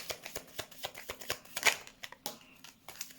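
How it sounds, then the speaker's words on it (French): Tarot-style cards being handled and laid out in rows of three for a reading, a quick series of crisp slaps, flicks and shuffling rustles at close range, with no talk. "On va mettre 3 cartes par 3 cartes peut-être."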